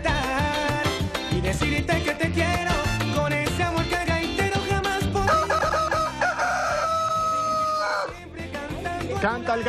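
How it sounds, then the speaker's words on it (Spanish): A rooster crows over loud, dense music during an early-morning Venezuelan television broadcast, with the crow set within the musical opening rather than heard alone. "Canta el Gallo"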